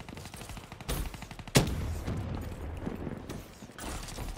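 Rapid automatic gunfire from the BRM in Black Ops 3 rattles in dense bursts, mixed with mechanical clacks and game sound effects, with a sharp loud hit partway through.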